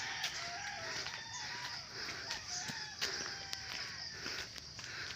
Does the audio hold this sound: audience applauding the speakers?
no